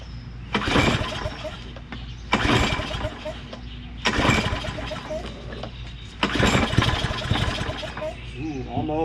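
A Troy-Bilt 21-inch self-propelled mower with a Briggs Quantum 190cc engine is recoil-pulled four times, each pull a loud rasping burst of cranking that fails to catch, with quiet gaps and faint talk between.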